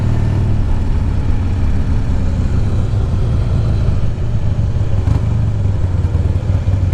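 A 2005 Harley Davidson Heritage Softail motorcycle on a test drive, its engine a loud, close, steady low rumble with slight throttle changes and some clatter, no talking.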